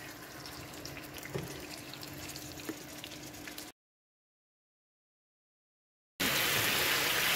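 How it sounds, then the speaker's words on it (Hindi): Chicken or goat liver pieces fry in hot oil on a tawa over medium-high flame, giving a steady close sizzle and crackle with a few sharp pops, then a gap of silence before a louder burst of sizzling. "अब कलेजी को मैं मीडियम टू हाई फ्लेम पे 1 से 2 सेकंड तक फ्राई करूँगी।"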